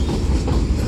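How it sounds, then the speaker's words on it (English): A BNSF manifest freight train rolls past a Central Avenue crossing, its wheels and cars making a steady, loud rumble with clickety-clack, close by and continuous. "So this train is coming from Metairie Road."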